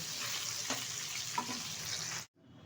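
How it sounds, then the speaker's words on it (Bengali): Pieces of katla fish fry in hot oil, giving a continuous close sizzle with a couple of soft clinks from turning. The sizzle drops out briefly near the end, then resumes more quietly, with no voices. "উল্টে পাল্টে একটু কড়াভাবে ভেজে নেব। মাছগুলো লাল লাল করে ভাজা হয়ে গেছে।"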